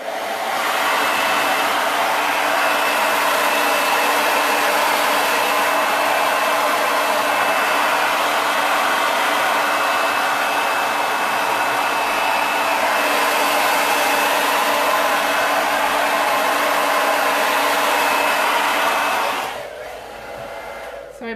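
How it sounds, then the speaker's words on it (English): A hairdryer on its cool setting blows with a steady, loud, close whoosh for about twenty seconds, then cuts off abruptly near the end. "I am going to pop the hairdryer on just for 2 seconds"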